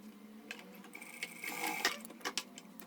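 A sewing machine stitches a seam on a bag strap in short, quiet bursts of rapid mechanical ticking, fairly close and alone without talk.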